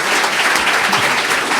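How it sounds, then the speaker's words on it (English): An audience at a writers' panel applauds the panelists, a dense, loud, even burst of many hands clapping close by, with no pauses. "we're applauding Bill and Sally right now too"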